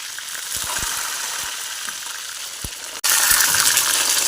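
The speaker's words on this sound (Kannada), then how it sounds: "ಇದು ಎಣ್ಣೆಲೆ ಇದೇ ಥರ ಫ್ರೈ ಆಗಬೇಕು." Brinjal fries in oil in a pan, a steady hiss with occasional low pops and clatters, then a sudden jump to a louder, brighter sizzle near the end.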